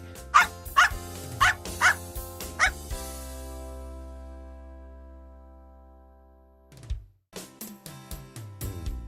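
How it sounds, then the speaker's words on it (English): A pet dog guarding a house barks in a quick run of about five sharp, loud barks close by, then goes quiet under a sustained tone before another rapid burst of barking near the end. "Dog guards the house."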